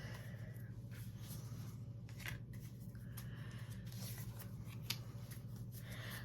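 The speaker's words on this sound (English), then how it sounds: "I'm going to give a couple more shuffles" Tarot cards being shuffled by hand, soft papery riffling and rubbing strokes, quiet and close, over a low steady hum with no one speaking.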